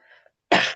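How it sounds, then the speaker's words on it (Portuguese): A single sharp, loud cough bursts out after a brief faint breath, close to the microphone. "ainda estou com um pouco de tosse"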